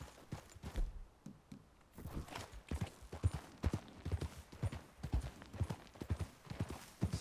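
Horse hooves clip-clop in a steady walking rhythm in the Red Dead Redemption video game, close and fairly loud, with a brief quiet gap near the start and no speech.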